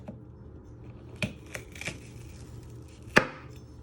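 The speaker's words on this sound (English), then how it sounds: "So I cut it in half." A knife chopping vegetables for ratatouille on a cutting board, with a few separate sharp knocks, one louder final chop, over a low background hum.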